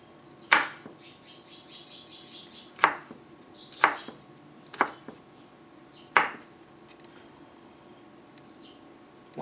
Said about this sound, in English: Once you chop chilies like this purple chili here